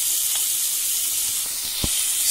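Onions sizzle in hot oil in a pan, giving a loud, even hiss throughout, broken by a few soft taps near the end.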